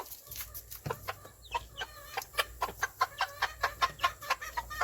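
Hens cluck and chatter steadily on a homestead, a brood that hatched its chicks without an incubator, with short, close, repeated clucks in a busy uneven rhythm and no talk.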